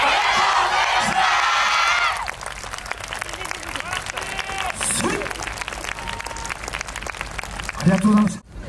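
At the finals stage of the 26th Michinoku YOSAKOI dance festival, a crowd fills the air with applause and cheers, and an announcer speaks over the clapping as it fades.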